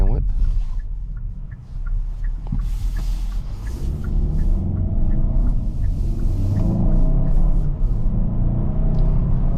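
A 2023 Kia Sorento SX in sport mode accelerating, with a steady low engine rumble and road noise building inside the cabin, close and continuous throughout.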